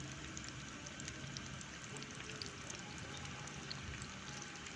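Cabbage pakora pieces fry in hot oil, giving a steady, faint crackling sizzle with scattered tiny pops and no voices.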